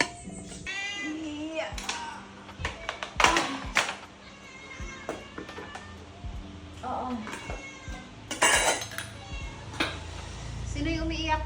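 A pet cat meows loudly and repeatedly, some calls drawn out into a wail, close by in a home while people chat in the background.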